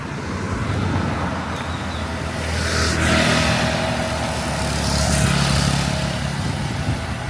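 Cars passing by on a street in Tulum, heard as a steady broadband traffic rumble with two louder swells as vehicles go past nearby, alongside wind noise.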